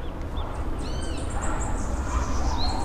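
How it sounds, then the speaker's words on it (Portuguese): Small birds chirp in the background in short, high, thin calls scattered over a steady outdoor ambience, with no one speaking. "esse som de passarinho estava entrando aí no seu pavilhão auricular"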